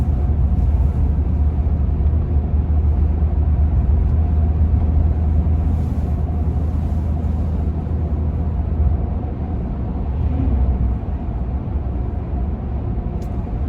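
Inside the cabin of a Toyota Tundra pickup truck with under-seat storage, a low steady road rumble and engine drone hold evenly while driving, with no talking.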